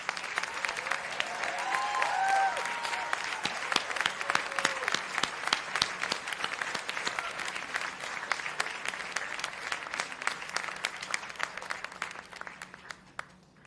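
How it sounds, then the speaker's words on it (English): A large audience at a USC Doctor of Physical Therapy white coat ceremony applauds the standing students, a sustained, even roar of many hands clapping that holds for over ten seconds, with a faint voice briefly heard early on, then gradually fading. "Could all of the students here please stand up, and let's give them a round of applause"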